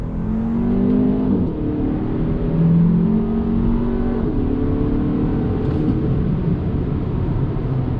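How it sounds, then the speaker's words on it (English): A 2021 Hyundai Elantra N Line accelerates held in second gear, its engine a loud, continuous droning hum from inside the cabin with harmonics climbing and dipping as revs change. "let's do another little bit of an acceleration test. I'm actually gonna leave it in second gear this time."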